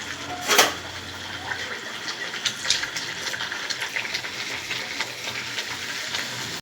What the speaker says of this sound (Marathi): तेल चांगलं तापलं. आता त्यावर मी पुरी सोडते.